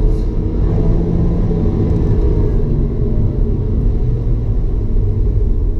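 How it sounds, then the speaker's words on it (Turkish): A loud, steady engine drone and low rumble from an Opel Corsa E with a 1.4 Ecotec engine and six-speed automatic gearbox, running at high revs, continuous throughout with no talking. "Çok bağırıyor araba. Kuru gürültü gibi."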